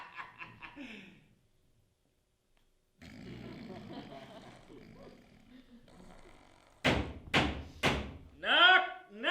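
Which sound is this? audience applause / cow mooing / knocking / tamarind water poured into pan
knocking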